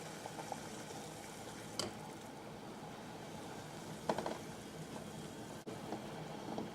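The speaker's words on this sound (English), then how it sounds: "Here I have boiling water" Water in a pot at a rolling boil, salted for cooking eggs, gives a steady, faint bubbling and sizzling hiss with a few small clinks, and no one speaks.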